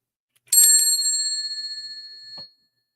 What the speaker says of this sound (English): This is my mom's antique bell, if anybody's wondering.